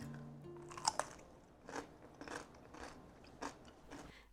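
Crunchy old-world dill pickles being bitten and chewed up close, a few sharp crisp bites followed by quieter wet crunching in a near-silent room.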